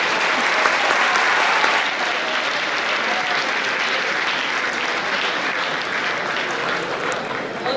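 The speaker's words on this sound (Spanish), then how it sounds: "Un fuerte aplauso para todos." A crowd at a university campus festival gala gives loud, sustained applause for the championship prize winners, steady and dense clapping from start to finish.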